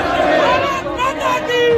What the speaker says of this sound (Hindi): पाकिस्तान मुर्दाबाद के नारे लगे